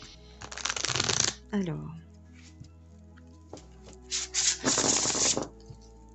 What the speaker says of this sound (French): tu veux que je te sorte d'autres cartes oracles pour finir?